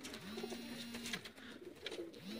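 A Sialkoti red-pearl pigeon coos close by, two or three soft rolling coos with short pauses between, over a quiet room hush.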